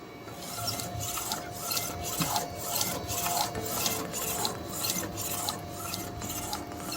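A DTF printer with a white ink circulation system runs a print job, giving a steady mechanical rasping hum with regular, evenly spaced carriage passes that repeat about every half second, close and continuous, with no talking.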